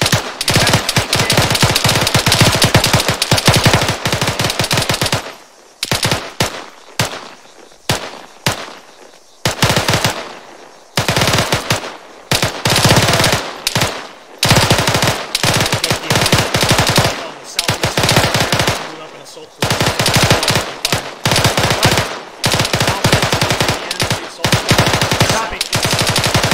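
Machine gun fire in the Arma 3 military video game rattles loud and close in long sustained bursts, then breaks into shorter volleys separated by brief pauses.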